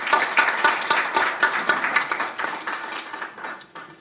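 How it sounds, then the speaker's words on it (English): Audience applause for President Ruto at a press event, a dense burst of many hands clapping with sharp transients that holds steady for several seconds and then thins slightly toward the end. "Can we please clap hands for President Ruto and his support?"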